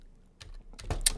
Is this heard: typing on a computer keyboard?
yes